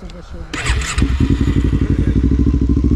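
Motorcycle engine starting with a clunk of a gear shift, then settling into a loud, rapid, even idle thump close by, with brief voices over the start.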